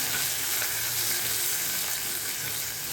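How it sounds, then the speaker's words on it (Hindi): Garlic sizzling in hot oil over cumin tempering, a dense, steady frying hiss with light crackle throughout, close and even in level, without speech. "ये दोनों ही चीज़ें तड़क गई तो अब मैं इसके अंदर डाल रही हूँ लहसुन।"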